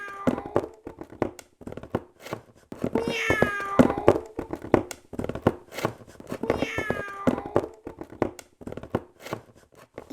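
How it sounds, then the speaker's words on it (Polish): A cat gives two drawn-out, wavering meows a few seconds apart, heard close. Scattered knocks and rustling handling sounds fill the gaps around them. "Miau."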